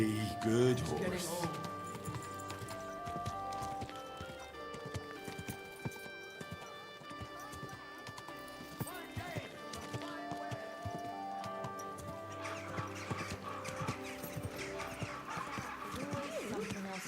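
Hooves clip-clop steadily while a horse whinnies briefly near the start, set against a busy background of music-like tones, in the video game Kingdom Come: Deliverance II.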